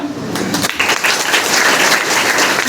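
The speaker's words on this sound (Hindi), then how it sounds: "आप लोग सारे लोगों के लिए जोरदार तालियां बजा दीजिएगा" Schoolchildren applaud together at a road-safety awareness event held at a school in Lucknow, a dense, steady patter of many hands that carries loud and close throughout.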